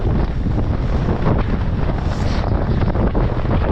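Strong wind roars across the microphone during a mountain bike ride on Holyhead Mountain, Anglesey, a continuous loud buffeting with surging gusts and no talking.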